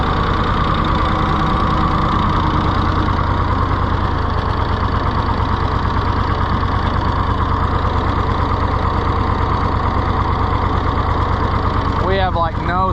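A rusty, neglected Ford 4000 tractor engine runs steadily with a faulty governor linkage, a loud, close, continuous rough diesel drone with a slight knock, and a voice briefly audible near the end.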